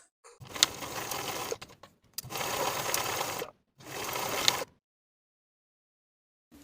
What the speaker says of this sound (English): Sew as pinned with a 1/2 inch seam allowance.